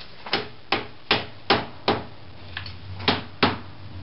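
A hammer taps a wooden screen bottom board for a beehive during assembly, with eight sharp, evenly spaced knocks, close and fairly loud, and no talking.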